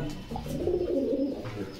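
A pigeon at a pigeon market in Bogura, Bangladesh, gives soft, low, throaty coos that swell and fade over a couple of seconds, close by against a murmur of background noise.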